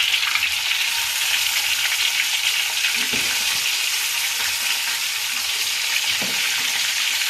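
Tilapia fish fry in hot oil with a steady, loud, crackling sizzle throughout, broken only by a couple of faint knocks from the pan.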